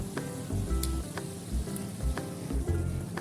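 Pineapple juice goes into a pan of cooked spice paste and ground pineapple, giving a close, steady sizzle with low bubbling thumps and faint stirring, alone with no talking.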